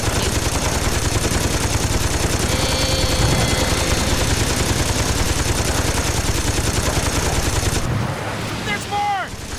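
Machine gun fire in Saints Row 2 rattles continuously at full volume during a boat chase, a dense unbroken stream of shots with engine and water noise beneath, cutting off near the end.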